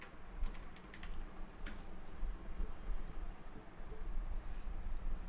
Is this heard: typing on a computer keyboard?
yes